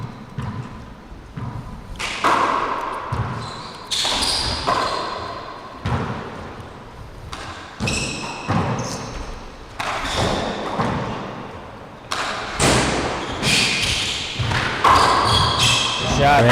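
A handball smacks the walls in an Irish four-wall nationals semi-final, with sharp thuds at a steady rally pace that echo through the court while a commentator talks over the play.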